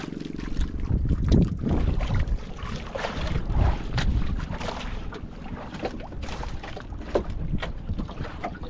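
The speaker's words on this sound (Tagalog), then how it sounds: "Grabe kadaming bangka." Many boats out on the water, with a rumbling engine-like drone, splashing and wind buffeting the microphone, heard under a little talk.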